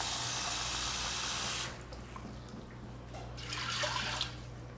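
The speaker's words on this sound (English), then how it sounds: "Add more water to the pan." Tap water runs from a kitchen faucet into a pan of soaked beans, a steady hiss and gush that drops abruptly, then continues as quieter splashing and trickling in the filling pan.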